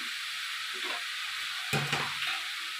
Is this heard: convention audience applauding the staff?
no